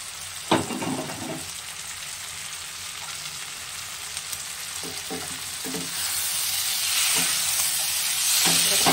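Morola fish fry with green tomatoes in a pan, a steady sizzle that swells louder toward the end, broken by a few stirring scrapes and clinks, with no talking.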